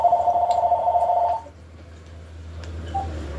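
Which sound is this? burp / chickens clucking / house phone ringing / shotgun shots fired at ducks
house phone ringing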